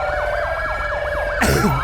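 Police sirens in the video game GTA 5 LSPDFR wail in fast repeating rising-and-falling sweeps, loud and close, with a second harsher siren tone cutting in near the end.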